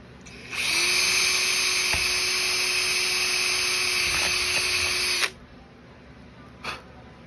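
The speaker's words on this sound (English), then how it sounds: "Now we're drilling through 2 layers of Kydex here." A power drill whines at a steady high pitch for about five seconds as it bores through two layers of Kydex plastic, then stops, followed by a brief clunk.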